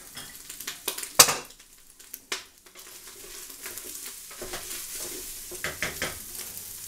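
Ground beef and kielbasa sizzle in a pan while a utensil stirs and scrapes, with a sharp clink near the start and a steady frying hiss underneath, close up and with no talking.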